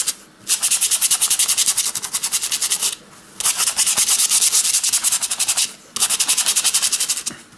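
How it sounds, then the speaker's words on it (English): A paintbrush dry-brushing paint across textured plastic card, giving steady rapid scratchy strokes in three long close-up bursts separated by short pauses, with no voices. "the paintbrush, because it's been rubbing it over, it's picking out all the texture on the plastic card"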